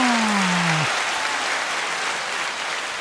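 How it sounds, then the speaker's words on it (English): Broadband clapping and cheering from a crowd at a talk-show taping fills the clip steadily and loudly, with a faint falling tone near the start. "Claps and cheers, please."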